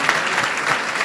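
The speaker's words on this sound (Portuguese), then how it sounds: "dê uma linda salva de palmas em Jesus" Church congregation applauding during an online worship service, a dense, steady wash of many hands clapping at close range for about a second with no voices on top.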